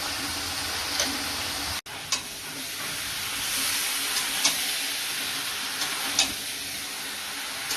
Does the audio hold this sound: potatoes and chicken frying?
yes